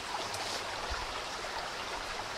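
A creek flows in a steady, even rush of water, close and continuous, with small splashes and trickles and no voices.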